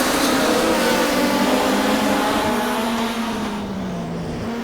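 Modified production race cars roaring around Carina Speedway in a Queensland title A-main, a loud sustained engine drone with shifting pitch as the pack passes close by, fading slightly toward the end.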